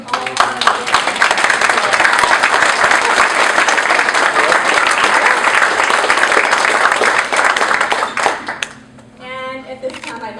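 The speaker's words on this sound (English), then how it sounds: "So let's give a round of applause for all of them." A crowd at a volunteer-of-the-year event gives loud sustained applause for the volunteers, dense clapping that fades out near the end, followed by a voice speaking.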